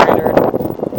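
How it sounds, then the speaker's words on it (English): Strong wind buffets the microphone on a snowy mountain peak near Boulder, Colorado, in spring: a close, steady broadband roar with gusty swells. "it's a windy day, very windy day"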